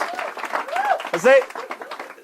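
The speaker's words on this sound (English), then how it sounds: "Let's give John and Jesse a big round of applause as they make their way back to their seats." An escape-artist show audience claps in a continuous patter as the volunteers return to their seats, with someone talking loudly over the applause.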